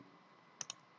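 Two quick, faint mouse clicks in Autodesk Maya land close together against a quiet background, with no talking.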